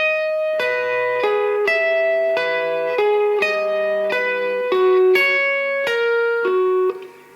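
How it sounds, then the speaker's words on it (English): Compressed lead electric guitar, a steady run of evenly sustained, ringing high notes in a repeating pattern, thick and even in level, close and alone before fading at the end. "So with the compression it will sound like this."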